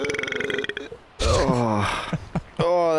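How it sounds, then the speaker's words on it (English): A thick, drawn-out burp from a game character rumbles loudly up close after a stretch of gravelly growling, followed by a short vocal outburst. "that burp was thicker than it needed to be"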